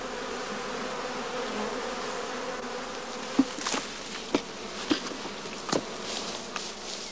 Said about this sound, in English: The bees now set about enlarging the entrance of their skep by gnawing it and smoothing it